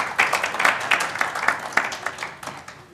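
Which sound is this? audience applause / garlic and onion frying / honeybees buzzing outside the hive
audience applause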